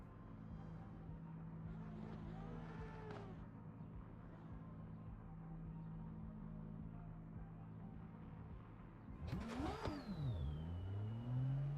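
Car engine in a video game, a steady mid-pitched drone that then revs sharply upward near the end, loud and close, with no one talking.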